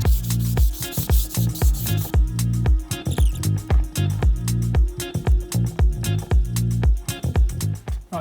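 Rhythmic back-and-forth strokes of 240-grit sandpaper rubbing across the face of a wooden cabinet door, steady and close, with a quick repeating scratchy cadence throughout.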